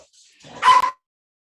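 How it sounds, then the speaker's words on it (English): A single sharp dog bark, close and loud, preceded by a soft whine, then silence. "Sorry, my dog is barking."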